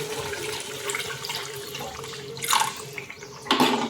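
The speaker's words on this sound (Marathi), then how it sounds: "आपण यात आता पाणी घालूया" Water poured into a pot of paneer makhani masala rice, a steady splashing stream with brief louder gushes near the end, close and alone.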